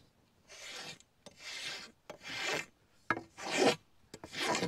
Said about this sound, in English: Push some of the sawdust off.